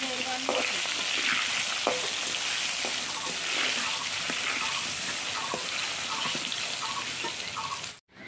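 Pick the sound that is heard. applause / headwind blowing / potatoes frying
potatoes frying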